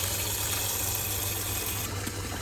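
Water gushes steadily into a cooking pot being filled with about ten litres for boiling beef, a continuous rushing pour with no talk over it.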